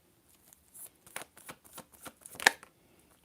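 Tarot cards being shuffled by hand, a series of quick riffling flicks and soft slaps in an irregular rhythm, close and fairly quiet in a silent room.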